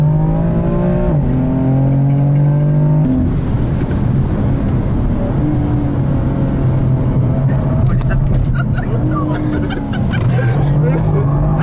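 A group of Porsche GT4 race cars starts together at the Le Castellet circuit, engines revving and climbing through gears in a loud, sustained roar, with a voice talking over the start.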